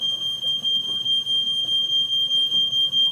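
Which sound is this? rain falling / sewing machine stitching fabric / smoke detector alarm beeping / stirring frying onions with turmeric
smoke detector alarm beeping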